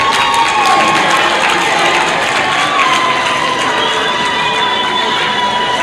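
Conference audience applauding and cheering for the Botswana delegation, a loud, dense wash of clapping and voices sustained throughout.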